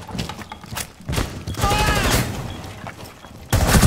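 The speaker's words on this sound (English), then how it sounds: "Did you shoot right through both of them?" Bursts of video game gunfire crack through a busy shooter match, several loud shots with a heavy volley at the end, mixed with clattering mechanisms and brief chatter from players.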